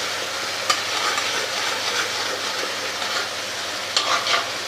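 Ginger-garlic spice paste fries in a pan on a high gas flame with a steady, close sizzle and a few light stirring scrapes.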